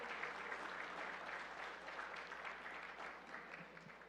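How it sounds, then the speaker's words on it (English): Steady applause from the audience at a Tamil economic conference in the USA, heard faint and distant for about four seconds with no clear talk over it. "let's have a huge round of applause for the Honorable Comptroller of the State of Maryland"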